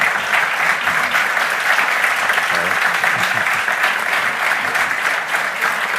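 Sustained applause from a conference audience, dense and steady throughout with no break, filling the space at a moderately loud level.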